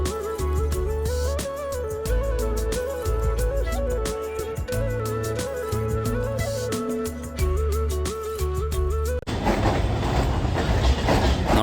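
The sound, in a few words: train running on rails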